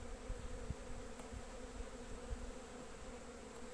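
Honey bees buzz steadily around beehive frames holding brood, a dense close hum with faint thuds, no talk.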